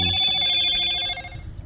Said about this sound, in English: The sound of my phone's not helping matters.